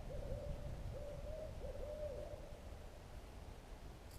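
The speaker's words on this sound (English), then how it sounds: "Okay, Mr. Owl." An owl hoots repeatedly in the distance at night, a short run of soft, steady calls over a constant low outdoor hiss near water while fishing.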